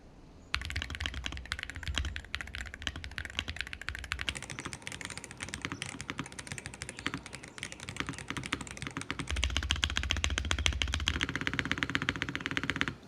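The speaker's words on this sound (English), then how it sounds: "I do think it sounds more like a traditional keyboard now" Rapid, continuous typing on a modified Wooting 60HE V2 mechanical keyboard with dense clicky keystrokes that grows slightly louder and heavier partway through, then stops abruptly.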